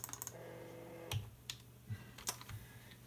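Typing on a computer keyboard while installing Xubuntu on an old Intel iMac, a few quiet scattered key clicks and taps close by, with no talking.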